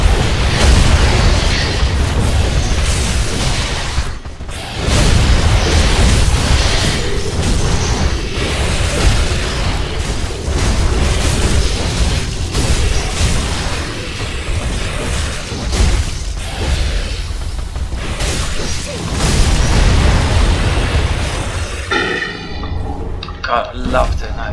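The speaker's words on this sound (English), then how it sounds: "God, I love doing that explosion." Booming explosions and crashes rumble through Dark Souls III gameplay, loud and repeated with whooshing bursts, while a player talks over the action.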